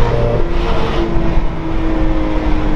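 A BMW M2 with an Akrapovic Evolution exhaust, flaps fully open, cruises at low revs through town, giving a continuous, loud, close, deep exhaust drone with a slight shift in pitch partway through.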